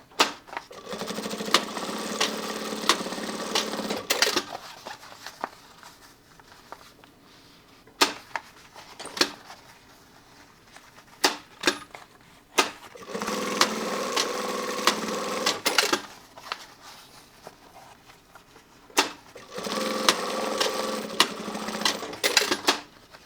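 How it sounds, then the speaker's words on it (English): Sewing machine stitching and back tacking fabric joins in repeated bursts of steady mechanical whirring, each a few seconds long, separated by quieter pauses with small clicks and handling noises, heard up close. "Do a nice back tack on all four of these connections here."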